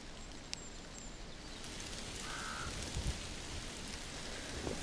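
Light rain falling on a farm pond in Norway makes a soft, even hiss with scattered drop ticks, faint and continuous, with no voices.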